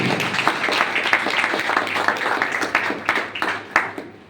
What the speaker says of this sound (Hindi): एक बार हमारे गुरुओं के गुरु महागुरु महिपाल सर के लिए जोरदार ताली।